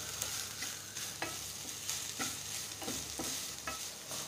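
Bitter gourd sabzi with sugar and fresh coriander being stirred in a pan, a soft sizzle under a regular rhythm of spatula scrapes, fairly quiet and close.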